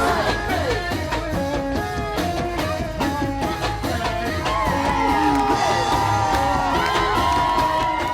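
Large crowd of Biden supporters cheering outside the White House, a dense, continuous roar of whoops, yells and noisemakers with horns honking through it, loud and sustained.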